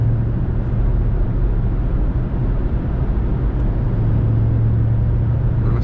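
2008 Mustang GT cruising through a tunnel, a steady low engine drone and road roar filling the enclosed space, constant and close with no breaks.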